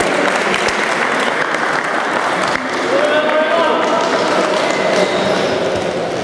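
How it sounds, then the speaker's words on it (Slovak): Sustained applause from an audience at an award ceremony for a winter football tournament in Zvolen, steady dense clapping throughout with some voices mixed in. "Ešte raz potlesk."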